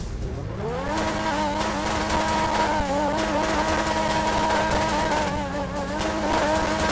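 A loud video game sports car engine, the Grotti X80, revs up and holds a high, steady drone while accelerating through the gears, with faint crackling exhaust backfire.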